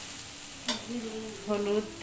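Potatoes fried red in a pan with raw spices, including ginger, garlic and cumin paste and coriander powder, give a soft, steady sizzle as they are stirred, while a voice speaks briefly.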